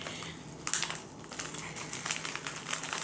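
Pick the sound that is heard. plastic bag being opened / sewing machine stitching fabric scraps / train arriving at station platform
plastic bag being opened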